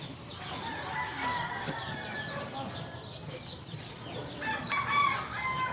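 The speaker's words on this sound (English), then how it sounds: "everybody's got 17 roosters, and some dogs" Roosters crowing in a quiet rural backyard in the Philippines, several overlapping calls at mid distance over a steady outdoor hum, with other fowl clucking and faint talk in the background.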